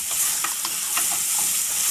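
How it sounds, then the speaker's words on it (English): Paya trotters frying in hot oil, a steady bright sizzle with bursts of crackle and stirring scrapes throughout, fairly close and continuous, with no talking. "I'm adding the paya in there, and I'll cook this paya"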